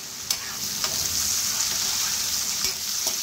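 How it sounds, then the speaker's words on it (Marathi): Onions stir-frying in a pan over a high flame, a steady close sizzle with a few scraping stirs of the spatula, no voices. "तर मी हे हाय फ्लेमवरती परतवून घेते।"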